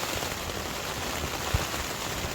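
Heavy rain pouring down on a tent at a solo winter wild camp in the Lost Valley, Glencoe, Scotland, a dense steady roar of drops with one faint thud, loud and continuous.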